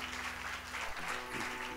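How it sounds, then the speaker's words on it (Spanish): Congregation applause during a church service, a dense wash of many hands clapping at moderate volume throughout, with a low steady hum beneath. "¿Pueden darle un aplauso al Señor"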